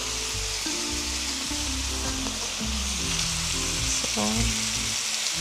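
Chicken pieces sizzle loudly while being sautéed in a pan, with steady frying crackle and occasional stirring, and background music runs underneath throughout.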